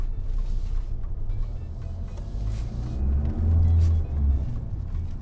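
Diesel engine drone and road rumble inside the cabin of a Mahindra XUV700 on the move, with a low, continuous hum that swells slightly midway.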